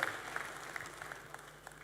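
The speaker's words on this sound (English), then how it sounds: "Let's give him a round of applause." Audience applause at a pension summit in Africa, a sustained patter of many hands clapping at moderate volume, with a few sharper claps standing out over the crowd.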